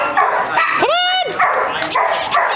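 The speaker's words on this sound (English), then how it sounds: "All kinds of dogs barking." Several dogs barking and yipping near and far, with a high whimpering yelp in the middle, sharp irregular barks scattered across the stretch alongside voices.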